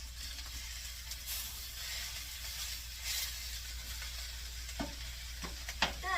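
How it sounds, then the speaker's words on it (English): Steady sizzling of potatoes, corn and kielbasa frying in a skillet, close up, with occasional scraping stirs of a utensil. "it's basically just like frying potatoes, but you're just adding corn and you're adding"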